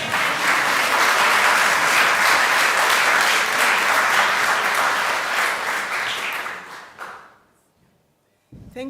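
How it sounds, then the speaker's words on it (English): At an inaugural lecture, an audience claps loudly and densely for about six seconds, then the applause thins and fades out into near silence before a brief sound returns at the close. "maybe if we can clap again."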